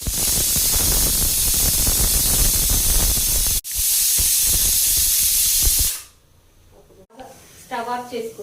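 A pressure cooker with moong dal inside vents steam through its whistle, a loud continuous roaring hiss lasting about six seconds. It then cuts out, and a voice speaks briefly near the end.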